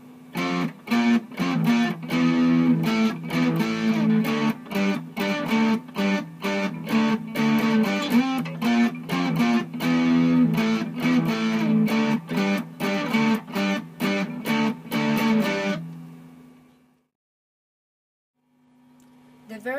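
Distorted electric guitar chugs through the power-chord intro of a song, dense and steady for about fifteen seconds before a held chord fades out, played solo and up close.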